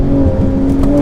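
A 1100 HP Nissan R35 GTR accelerates hard from a 40 mph roll in a street race, its engine a loud, close, sustained roar with a rising whine.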